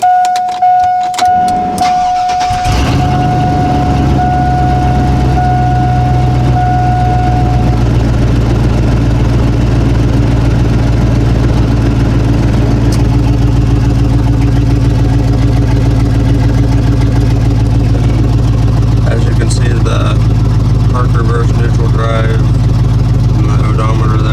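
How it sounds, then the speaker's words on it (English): A Chevrolet Silverado truck engine cranks briefly and catches, then settles into a steady, loud, close idle that runs uninterrupted for about twenty seconds. "We're going to go ahead and start the truck."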